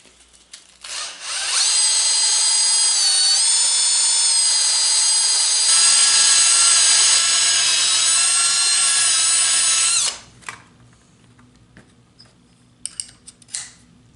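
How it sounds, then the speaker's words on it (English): A power drill whirs loudly at a high steady pitch for several seconds, spinning a dowel wrapped in 150-grit sandpaper, then winds down to quiet clicks. "That allows me to spin it with my drill."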